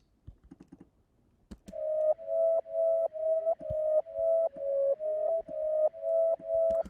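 A bright synth lead plays a run of short, evenly spaced staccato notes at one pitch after a few soft clicks, dry and upfront.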